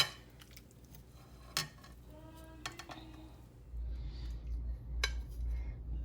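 Potato au gratin with beef being scooped from a baking dish onto a plate, with a few sharp clinks of a utensil against dish and plate, then a low soft rumble of handling toward the end.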